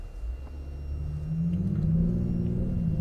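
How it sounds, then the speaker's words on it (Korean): A 2021 Kia K9 with a 3.3-litre gasoline turbo engine pulls away, its low hum building into a rising, steady drone heard from inside the cabin, with no talking. "출발하면서부터 이렇게 웅 하고 이제 소리가 아무래도 좀 다르게 느껴지죠"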